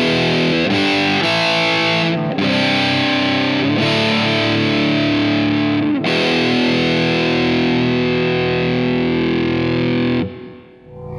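Electric guitar played through a Mesa Boogie Throttle Box drive pedal on its low-gain channel with mid-cut at zero, giving mildly distorted strummed chords that ring out loud and sustained, alone, before fading at the end.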